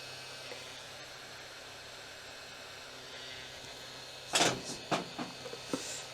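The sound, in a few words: heat gun shrinking heat shrink tubing on Harley 48 wiring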